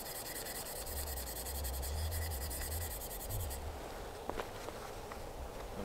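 The slate surface of a turkey pot call is roughed up with a steady, quiet scratching rub, followed by a few faint clicks and taps near the end.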